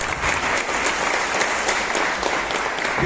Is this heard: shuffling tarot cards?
no